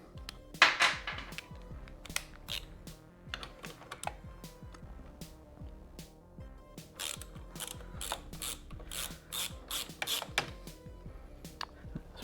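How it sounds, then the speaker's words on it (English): A ratchet wrench loosens a 12 mm bottom bolt on a Honda Grom MSX125 during crash bar installation, giving rapid clicking pawl bursts in uneven runs, close and fairly quiet. "we're going to loosen and remove the bottom bolt. So the bottom is a 12 millimeter."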